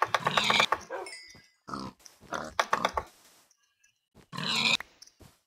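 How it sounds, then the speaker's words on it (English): Pigs in the video game Minecraft give several short grunting oinks in bursts separated by brief pauses, fairly loud and close, with no talking. "Nobody said about me killing pigs along the way."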